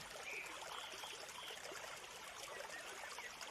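River water flows steadily with a constant rushing, babbling wash, even and unbroken throughout.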